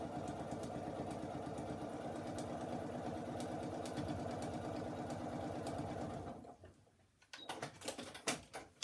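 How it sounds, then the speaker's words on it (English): A sewing machine runs a long straight line of stitching at a longer stitch length, parallel to a stitch line for stitch-and-flip work: a steady, rapid mechanical chatter for about six seconds, then it stops, leaving a few scattered clicks. "I'm sewing parallel to the stitch line before I flipped it"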